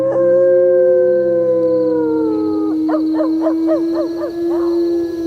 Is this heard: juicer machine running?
no